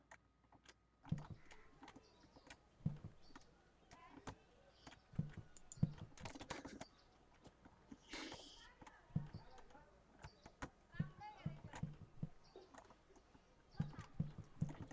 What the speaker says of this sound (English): why do the footsteps sound like drums? It sounds like I'm walking on toms or something